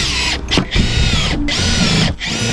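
Power drill driving screws into wooden formwork boards for a concrete slab, loud whirring bursts with brief pauses between them, close by.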